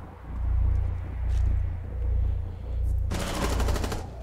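Rapid bursts of Rainbow Six Siege gunfire, a dense automatic volley erupting loudly near the end over pulsing low rumble.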